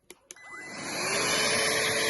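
Bosch GAS 18V-1 cordless car vacuum cleaner switching on with two sharp button clicks, then its motor whirring up and settling into a steady, fairly quiet hum.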